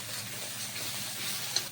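Water poured onto spices frying in oil in a pan for a Bengali mustard-fish bhola dish sizzles and hisses softly and steadily, with a brief sharper crackle near the end.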